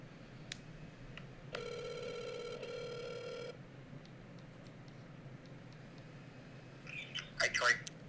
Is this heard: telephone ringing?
yes